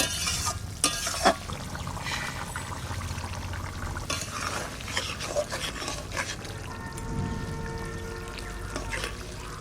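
Catla fish pieces added to a pan already cooking a fish head with cauliflower, making a steady frying sizzle with clattering stirs and a low bubbling rumble toward the end.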